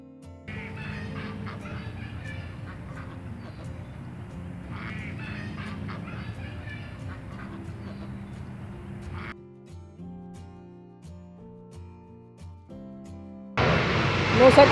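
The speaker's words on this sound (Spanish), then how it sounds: "Dos patos acosadores" Two ducks at a pond in Parque de la Amistad, Tijuana, quack and honk insistently up close in repeated bursts, with a brief noisy rush at the end.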